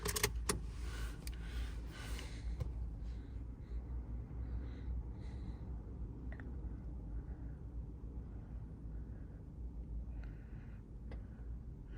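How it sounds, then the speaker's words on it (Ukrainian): On an Opel Astra H with a Z16XEP engine that stalls while driving, keys jangle and the ignition is switched on, followed by a low steady hum with faint intermittent electronic tones from the car. "Запалювання треба включити."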